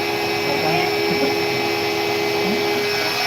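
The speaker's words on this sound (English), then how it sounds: "And now it's turned on this vacuum" A vacuum runs beside an X-Carve CNC machine in a workshop, a constant whining drone with steady tonal hum that holds level throughout, fairly loud and close.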